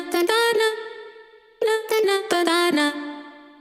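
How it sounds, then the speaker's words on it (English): A chopped, pitched vocal sample repeats in short bursts in a "doom, ta" pattern, its tone shifting between two vowel sounds in a bouncy rhythm, with a brief pause midway. "instead of doing a vocal chop melody that's just like doom"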